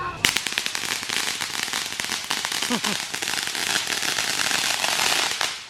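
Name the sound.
fireworks at Fourth of July celebration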